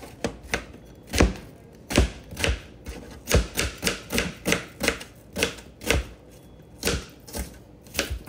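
An onion being chopped with a knife on a cutting board: steady, fairly even thunks, about two or three a second, close and distinct with no voices.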